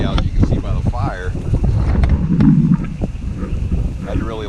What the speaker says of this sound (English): It's really windy out, you can see by the fire.